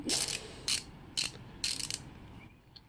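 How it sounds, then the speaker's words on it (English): A ratchet turns a socket on a bicycle bottom bracket, giving several quick bursts of close, crisp clicking separated by short pauses, fading to a faint tick at the end. "So, ratchet."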